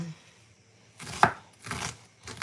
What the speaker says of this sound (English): all I need to do now is cut up my red onion